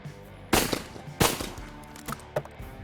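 Competition shooting at a range, with two loud close gunshots followed by several fainter, quicker reports and reverberation in between, and no talking.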